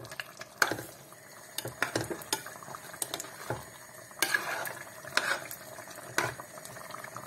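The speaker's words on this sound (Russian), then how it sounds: "Все хорошенько размешиваем." A spoon stirs Tatar-style azu in a pot after garlic cloves and a bay leaf go in, giving irregular close clinks and knocks against the pot over a soft bubbling, simmering bed.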